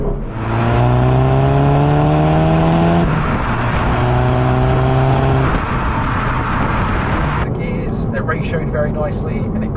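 A 2014 Volkswagen Golf GTI engine revs hard while accelerating on an open road, its loud note climbing steadily through the gears with clear shift breaks between each rising pull.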